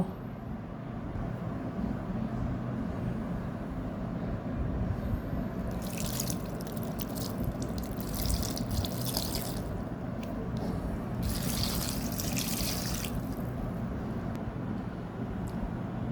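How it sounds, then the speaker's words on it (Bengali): Water is poured into a pot of red lentils and Malabar spinach, making a continuous rushing, splashing pour close by that runs throughout with a few brighter spattering bursts. "পানি দিয়ে দেব।"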